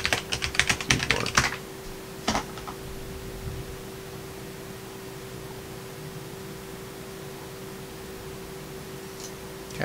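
Fingers type on a typewriter-style computer keyboard, making a quick flurry of close, clacky keystrokes over about two seconds, then a few stray taps before only a steady electrical hum remains.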